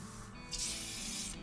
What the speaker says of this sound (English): How bad's this gonna spray us?